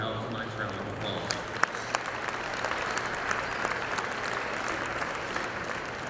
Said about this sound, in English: if you would give the breeders and exhibitors of these great young cows a nice round of applause